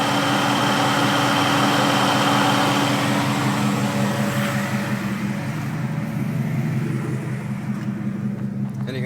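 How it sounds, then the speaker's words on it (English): The V8 engine swapped into a Chevrolet Colorado idles steadily with its AC compressor engaged, a loud, even hum with a low rumble and faint whine that eases slightly in the second half. "You should see the center hub of the AC compressor spinning now."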